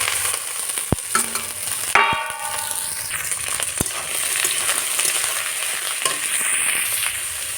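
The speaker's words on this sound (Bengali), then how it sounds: "তো এখন আমি আলু আর বেগুন একসঙ্গে দিয়ে দিচ্ছি" Potatoes and eggplant frying with browned onions in a pan, a steady loud sizzle with scraping stirs and a few sharp metal clinks against the pan.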